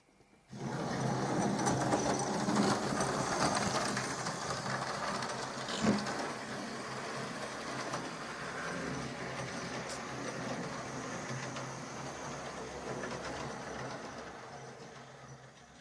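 A Hornby King Class model locomotive, King Stephen 6029, runs steadily over track points with a continuous whirring rumble, faint rail clicks and one louder clack partway through, fairly close with no voices.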